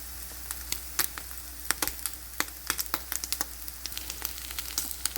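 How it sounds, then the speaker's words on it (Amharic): Rice being added to a pan frying with garlic, a steady soft sizzle with many sharp crackling pops scattered irregularly throughout, close and fairly quiet, no talking. "ሩዙን እየጨመርኩ ነው አሁን።"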